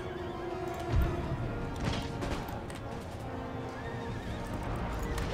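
Cavalry horses in the video game Empire: Total War give a loud, close whinny early on, followed by clattering hooves and further neighing. A faint battle din runs underneath, with no voices.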